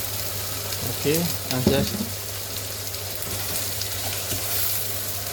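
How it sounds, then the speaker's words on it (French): Bell peppers sauté in oil in a pan, giving a steady close sizzle with occasional stirring noises. Brief speech comes early and the frying carries on steadily afterward. "Ajouter un peu d'huile pour faire revenir bien les poivrons."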